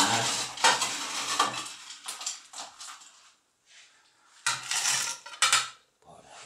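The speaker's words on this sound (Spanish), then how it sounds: "Venga, cogemos hielo picado" Crushed ice scooped and tumbled into a glass for a blue curaçao mojito, bursts of rattling, clinking ice near and loud, broken by short quiet pauses.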